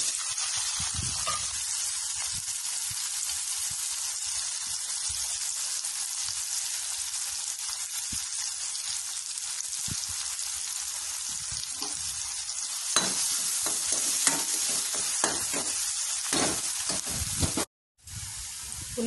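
Chopped onion and green chili sizzle steadily in a hot pan while being stirred, with a continuous bright frying hiss, scraping clicks of the utensil growing busier later on and a brief dropout near the end.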